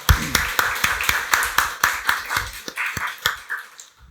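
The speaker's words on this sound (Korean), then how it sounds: "박수로 하나님께 영광 돌리겠습니다" A church congregation at a Sunday worship service claps together in a steady, fairly even rhythm of sharp claps lasting several seconds, with no talking.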